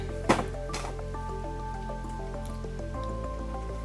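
Vegetable oil poured into cake batter, a couple of wet drips and a soft splash near the start followed by a faint liquid trickle, with steady tonal background sound throughout and no talking.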